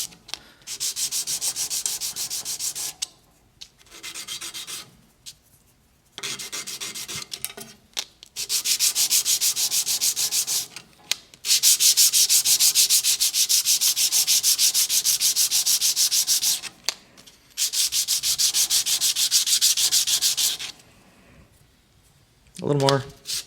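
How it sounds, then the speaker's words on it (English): Guitar saddle edges sanded flat on 320 grit sandpaper laid on a hard table, heard as loud, close rasping strokes in several bursts of rubbing separated by short pauses. "320 grit, flat, hard table. I'll start by sanding my flat edges on this."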